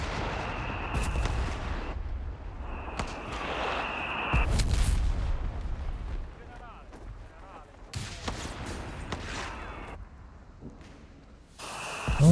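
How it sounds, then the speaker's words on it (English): Mortar fire in the real-time strategy game Company of Heroes 3, heavy booms and rumbling impacts at irregular intervals over continuous battle noise, with a commentator talking throughout. "All the mortars forcing a few retreats early on."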